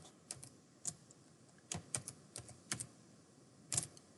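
Arduino code typed on a computer keyboard, with quiet, irregular key clicks and a few brief pauses against a faint background.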